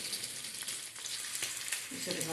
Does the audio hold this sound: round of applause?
no